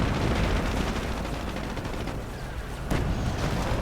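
Battlefield gunfire in a 2v2 strategy war game, a dense wall of overlapping shots and distant blasts, loud and continuous, with one sharper crack near the end.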